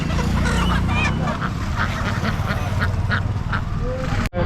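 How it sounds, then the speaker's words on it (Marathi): Ducks quack loudly and repeatedly amid a busy, crowded bustle of birds and background noise at the Chakan poultry market, with guinea fowl present, the calls overlapping close by. "आज मार्केटमध्ये गिनी फाऊल आणि बदक पण आलेले आहेत"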